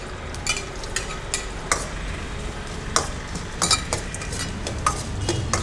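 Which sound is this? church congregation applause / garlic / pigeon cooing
garlic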